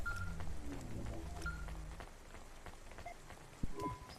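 Rain falls in a rainy city setting in the video game Cloudpunk, a soft, faint patter under low ambient hum and a few brief tones and clicks, with no one talking.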